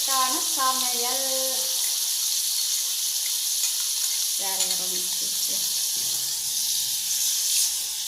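Broad steady sizzle of tomatoes sautéing in a pan for a Tamil Krittika fasting dish, constant and close throughout, with brief tonal clinks or scraping sounds rising over it at the start and middle.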